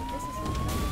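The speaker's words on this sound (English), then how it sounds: "Why is there an ambulance?" An ambulance siren wails in Goat Simulator 3, a steady rising tone with a faint whine over background noise, heard briefly and alone.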